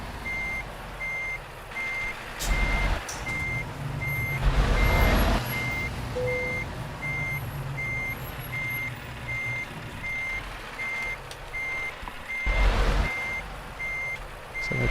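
A truck's reversing alarm beeps at a steady, regular pace in Euro Truck Simulator 2, with low engine rumble and a couple of hissing air bursts in between.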